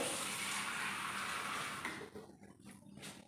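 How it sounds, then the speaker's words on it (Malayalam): Water pouring steadily into a pot of beef for a Kerala-style dry fry, a close, continuous splashing stream that tapers off after about two seconds into faint drips. "ആവശ്യത്തിനുള്ള വെള്ളവും കൂടെ ഒഴിച്ച്"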